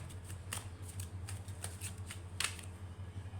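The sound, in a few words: shuffling tarot cards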